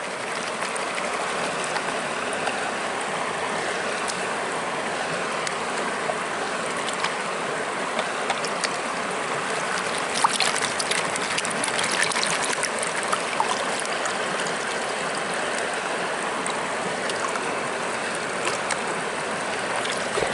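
Water sloshes and swirls in a gold pan while gold panning, a steady, close rush of churning water that continues without a break and has no talking.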